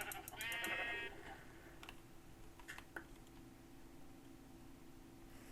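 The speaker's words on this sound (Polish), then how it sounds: "Te owce są chamskie" A sheep in Minecraft gives one short bleat, followed by faint keyboard clicks in a quiet, low-level background.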